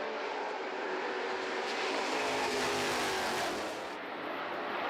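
Formula 5000 race cars at Pukekohe circuit scream past at nearly 300 km/h on the back straight, a distant high-pitched engine wail swelling and fading as the cars go by.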